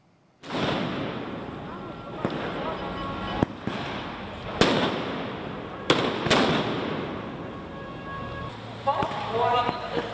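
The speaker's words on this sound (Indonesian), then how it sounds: "Para demonstran melemparkan kembang api ke arah polisi di Tbilisi, Georgia." Loud fireworks bursts and firecracker bangs crack out repeatedly over a noisy crowd of protesters throwing fireworks at police in Tbilisi, Georgia, with sharp explosions scattered irregularly throughout.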